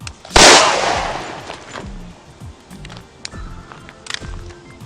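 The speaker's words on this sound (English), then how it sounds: "I just f***ing shot myself!" One sharp, loud gunshot sound effect cracks out near the start and fades quickly, followed by softer scattered clanks and shuffling.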